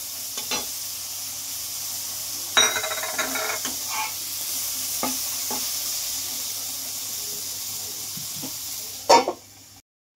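Eggplant pieces coated in salt and turmeric sizzle and hiss steadily in a hot pan, with a few sharp clatters of stirring and a brief louder splutter near the end.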